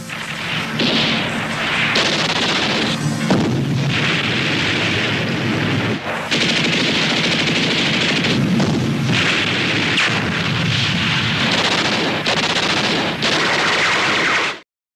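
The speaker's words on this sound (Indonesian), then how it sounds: "di luar sana telah terjadi baku tembak antara pasukan RPKAD dan pasukan penjaga para petinggi gerakan 30 September" A dramatized gunfight between troops, heavy bursts of automatic fire, booming blasts and crashes layered densely and loudly for the whole stretch before cutting off abruptly, with no talk.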